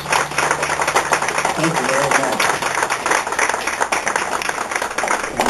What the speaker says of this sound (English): please give these guys a round of applause